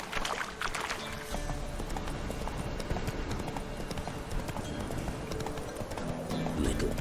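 Roach the horse gallops in The Witcher 3, rapid clip-clopping hooves drumming continuously and fairly loud, mixed with game ambience and occasional voices.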